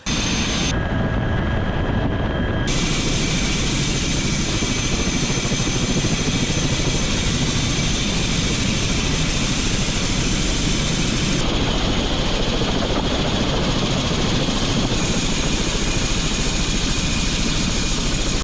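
A Bell 412 helicopter's rotor and engine roar steadily and loudly throughout, a dense continuous drone with no voices.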